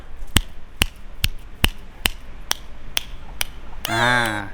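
Eight sharp wooden snaps from a clapper, evenly spaced at roughly half-second intervals, recorded on a Boya BY-MM1+ microphone, then a brief buzzing twang at the end.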